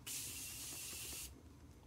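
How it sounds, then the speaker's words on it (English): Morphe Continuous Setting Spray misted from a bottle in one loud, steady hiss lasting over a second, then cutting off sharply into a quiet room. "this is, I mentioned it before, Morphe Continuous Setting Spray"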